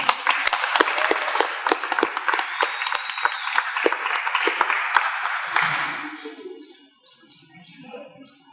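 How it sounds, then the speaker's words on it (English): Audience applause after a speaker at a talk in Atlanta, many hands clapping in a sharp, uneven patter for about six seconds before it quickly dies away into quiet room noise. "Please give him a round of applause"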